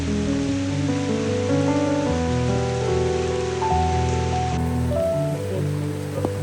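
Steady, heavy rain hissing continuously without a break beside a river in the Peak District, with a low tonal hum underneath.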